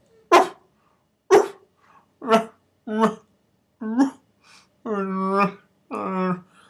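A human voice imitates Chewbacca-style pseudo barking with seven short gruff bark-like grunts, evenly spaced, the last two longer and more drawn out.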